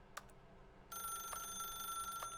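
A telephone rings in The Stanley Parable: Ultra Deluxe video game, a steady electronic ring that starts abruptly partway through and holds at moderate volume above a faint background.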